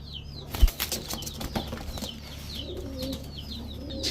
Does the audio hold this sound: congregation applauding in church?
no